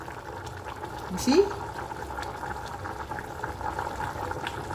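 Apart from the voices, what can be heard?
potato porridge boiling in a pot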